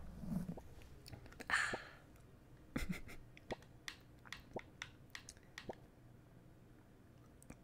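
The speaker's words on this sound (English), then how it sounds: "It's the best sound in this game when you hear all your stuff pop, pop." Crops popping one after another as they grow in the video game Core Keeper, a string of short, soft, evenly spaced pops heard alone at low level.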